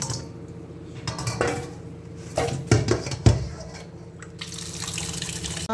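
Raw chicken from a home-raised rooster is washed in a metal pot, with water sloshing, splashing and dripping amid clanks of the pot and utensils, close and fairly loud.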